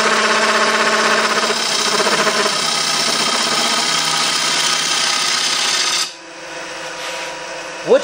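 A gouge on a wood lathe cuts a turning bowl in a loud, continuous rasping scrape with a rhythmic pulse, then stops and leaves a quieter hum.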